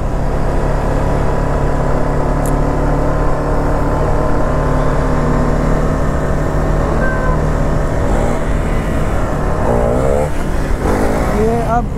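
Motorcycle engine, an Apache RR310 or Duke 390, droning steadily and loudly during a wheelie on the road, with wind rush and someone talking over it throughout.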